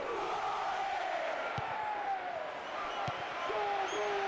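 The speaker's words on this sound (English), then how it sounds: "As the crowd ramp up again" A stadium crowd in the football video game PES 6 keeps up a loud, continuous roar with rising chants and whistles, and a few thuds of the ball come through.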